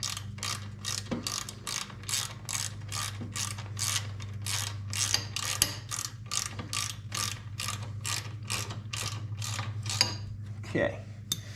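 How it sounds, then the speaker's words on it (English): A ratchet with a 1/4-inch Allen socket winding a bolt in while fitting a chrome engine guard to a 2018 Harley-Davidson Softail, a steady run of quick, evenly spaced clicks close up, pausing briefly near the end. "We'll wind this in with the 1/4-inch Allen socket."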